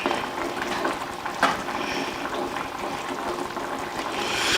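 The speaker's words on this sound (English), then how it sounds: "we're just gonna give it a little simmer here on top of the stove for a moment" Creamy mushroom sauce with pork chops simmering in a pan on the stovetop, a steady soft bubbling and fizzing hiss with a faint clink partway through, no voices.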